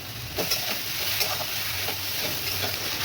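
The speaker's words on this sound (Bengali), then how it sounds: "শাকটা সুন্দর করে পেঁয়াজের সাথে নেড়ে নিচ্ছি।" Leafy greens and onion stir-fry in a hot pan, giving a constant loud sizzle broken by several scraping stirs of a spatula, with no talking.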